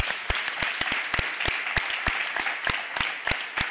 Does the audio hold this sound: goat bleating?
no